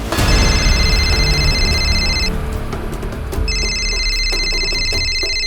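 A phone rings loudly in two bursts of bright trilling electronic tone separated by a short gap, over a busy dramatic background mix.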